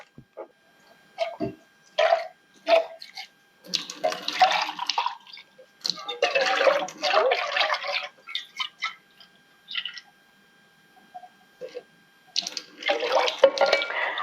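Kitchen tap water runs in uneven bursts while ingredients are rinsed during homemade spaghetti sauce preparation, starting and stopping several times, close and fairly loud.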